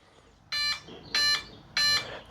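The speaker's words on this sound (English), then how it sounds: "3 beeps, that's good." Three short electronic beeps from a KFPLAN short course RC truck powering on, evenly spaced about half a second apart, bright and tonal over a quiet background.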